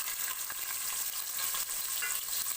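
Onions sizzle steadily in hot cooking oil inside a pressure cooker, a dense, close, continuous crackle with no pauses across the whole stretch.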